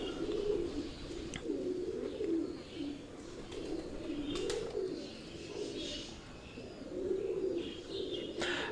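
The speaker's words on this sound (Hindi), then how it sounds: "ये जो कबूतर आप देख रहे हैं ये भट्ट साहब की ब्रीडिंग सेटअप में टेडी ब्रीड का कबूतर" Soft, rolling coos from Teddy breed pigeons in a breeding setup repeat steadily at close range, with faint chirps and a few sharp clicks in the background.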